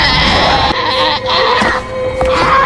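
A goat bleats loudly and steadily up close in a horror film scene. The cries are wavering and drawn out, with a dense, ominous background under them and no one speaking.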